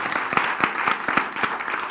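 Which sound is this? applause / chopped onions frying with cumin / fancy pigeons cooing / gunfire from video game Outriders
applause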